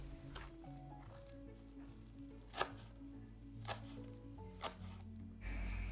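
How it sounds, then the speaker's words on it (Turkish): A few sharp knife chops finely chopping parsley on a board, spaced unevenly, close by with soft background music underneath. "Yarım demet maydanozu ince ince doğruyoruz"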